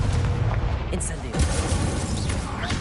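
Fire spell cast in Hogwarts Legacy on PS5, a loud roaring burst with booming blasts that fill the whole clip, dense and continuous, with a voice speaking over part of it.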